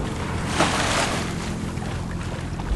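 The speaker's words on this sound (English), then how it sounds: "we are motoring along at 5 knots and the wind is behind us at 5 knots" Sailboat motoring at about five knots on the approach to Bora Bora, a constant low engine drone under rushing water and light wind along the hull.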